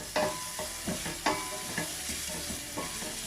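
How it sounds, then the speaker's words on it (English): Onions and rosemary stirred in a frying pan, with repeated scraping strokes at an irregular pace over a steady sizzle. "Giving this a mix."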